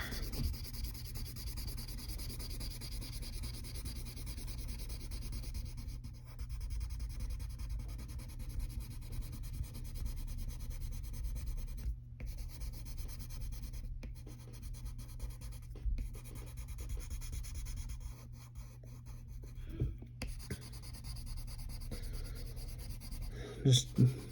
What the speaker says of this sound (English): we can take the side of our pencil and just color in everything else